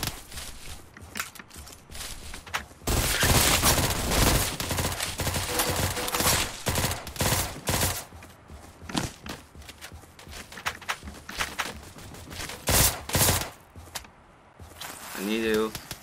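Gunfire in the top-down shooter Surviv.io rattles in rapid bursts and single shots, fairly loud and sustained, mixed with footsteps and game effects while someone talks over it.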